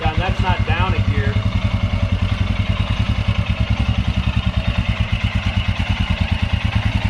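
A Royal Enfield Scram 411 single-cylinder motorcycle thumps along at low speed with a steady rhythmic engine pulse and wind noise, while a rider's voice is briefly heard at the start.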